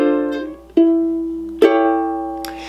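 Ukulele plays the opening two bars of St James Infirmary as a slow solo, with three strummed chords ringing out one after another, each struck clearly and left to decay, close and alone without talk.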